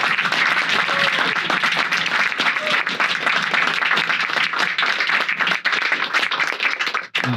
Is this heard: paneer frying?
no